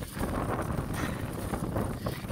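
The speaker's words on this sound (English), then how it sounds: "Oh, it's so windy today." Steady, blustery wind roars across the microphone during a bike ride in Ibaraki, Osaka, Japan, a continuous broadband rush with slight gusting surges throughout.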